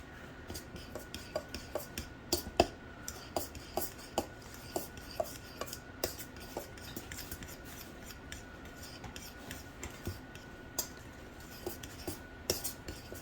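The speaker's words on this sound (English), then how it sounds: "Let me get my little stir thing. Guess I'm using a fork." A fork scrapes and taps rhythmically against a bowl while stirring lemon cake batter, with steady light clicks and scrapes repeating close by throughout, no voices.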